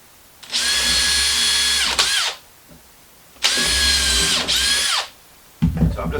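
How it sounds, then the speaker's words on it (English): A power drill pre-drilling a screw hole through chipboard into hardwood, running in two sustained bursts of about a second and a half each with a winding-down whine after each, then a brief start of a third burst. "I'm just going to screw it down."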